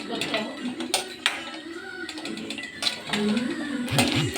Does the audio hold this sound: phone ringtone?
no